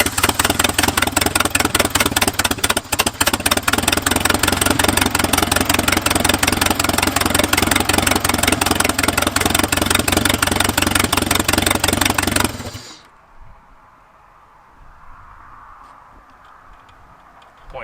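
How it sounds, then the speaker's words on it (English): An 80-year-old abandoned Jeep engine idles roughly with a steady, ticking mechanical rhythm up close for about twelve seconds, then cuts off abruptly, leaving near silence with faint background noise. "Although it is idling without jump now."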